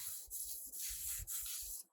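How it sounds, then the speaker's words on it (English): Steady abrasive scrubbing of a metal crosscut saw blade with a pumice stone, a gritty rubbing stroke repeated back and forth at a brisk rhythm, close up and continuous. "So I scrub and rinse."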